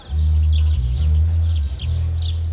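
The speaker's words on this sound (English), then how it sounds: "The serenade of birdsong" Bright bird chirps and tweets flutter above a loud, deep droning bass hum from nearby music at a street in Montreux.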